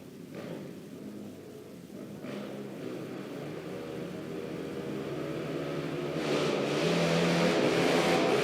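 Quad ATV engines rising together at the start of an indoor heat race at Emma Indoor Raceway, a dense droning roar that climbs steadily in pitch and loudness as the pack pulls away.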